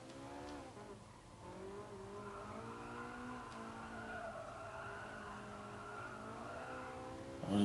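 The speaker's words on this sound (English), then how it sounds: "And I've spun it out on the first corner." Race car in GT Sport spinning out on the first corner, tires skidding and squealing in long wavering sweeps over the engine for several seconds, loud and sustained, with a sharp burst at the end.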